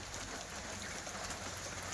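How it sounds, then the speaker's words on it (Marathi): Light rain falls steadily over open grassy farmland in a village, a soft, even hiss of drizzle heard alone throughout. "बारीक पाऊस पडतोय."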